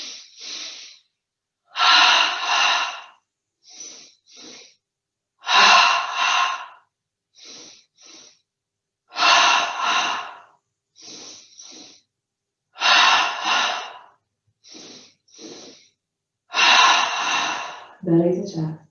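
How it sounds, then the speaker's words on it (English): Breathing exercise during a yoga session: paired, sharp nasal inhalations repeat in a steady rhythm, each double sniff followed by a longer exhale, close and clear with silence between, about a dozen cycles. "We're going to take 15 double breaths, just 1 round this time, starting with our focus into the belly, breathing in through the nose twice."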